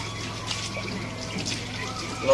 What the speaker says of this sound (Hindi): तो आज ठंडा पानी से नहाना हो।